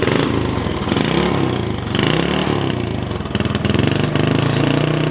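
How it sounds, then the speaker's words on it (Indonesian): A 2010 Yamaha Jupiter Z motorcycle sits idling, its close, steady low-pitched chug running continuously for several seconds with slight rises in engine speed and no talking. "Ini suara dari Yamaha Jupiter Z 2010 masih bagus"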